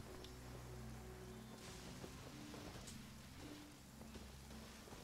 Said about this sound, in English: I can't light these up because it's raining